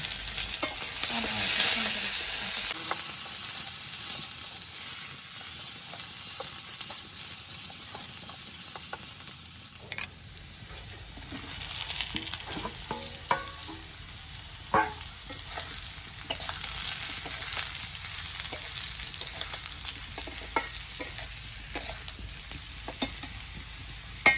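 Onions sizzle steadily in a hot pan for a long stretch, broken by stirring and scraping sounds and occasional clinks, while cooking a snakehead fish curry; no voices.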